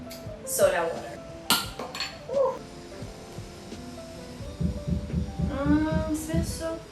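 Soda water is poured into a cocktail glass filled to the brim with ice cubes, giving a light bubbling, fizzing sound after a few clinks of glass and ice, with talk heard over parts of it.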